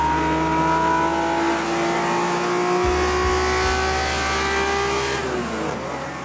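Datsun 240Z engine revving high toward 8,000 RPM on a mountain road, a loud rising-then-falling mechanical howl with shifting tones, heard close and alone.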